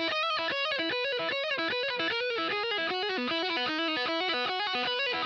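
Electric guitar lead in a fast passage played through two stacked distortion pedals for a vintage drive tone, with rapid picked notes that are heavily saturated, loud and sustained, heard alone.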